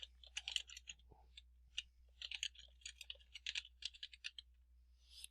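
Keys clatter on a computer keyboard while grades are entered into a spreadsheet, a quick irregular run of close, light clicks with short pauses, no voices.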